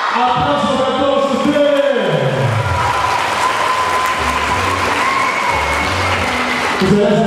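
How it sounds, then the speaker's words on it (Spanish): A studio audience at a Spanish-language TV programme breaks into loud, sustained applause with some cheering and a low hum of sound beneath it. "¡Aplausos para todos"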